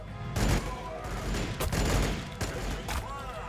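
Seraphim units in the video game Warhammer Battlesector fire a fusillade of close, overlapping shots and bursts in repeated clusters over a few seconds, with faint talk underneath.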